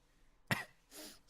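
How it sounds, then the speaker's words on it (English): A single short, fairly quiet cough from a person, nearby and alone, followed by a softer breathy exhale. "I'm really trying not to cough constantly"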